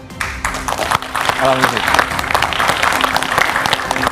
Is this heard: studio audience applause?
yes